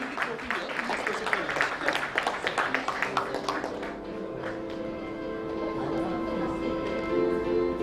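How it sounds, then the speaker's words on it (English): An audience at an architecture awards conference in a hotel hall applauds the award winners with steady clapping for about four seconds, which then fades into a room hum with a faint voice. "can we have a big round of applause for all the award winners who've come here and collected the awards"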